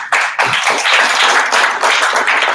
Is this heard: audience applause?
yes